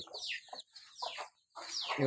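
Chickens cluck in short bursts separated by brief pauses, close by on a farm, ending in a sharper, louder squawk.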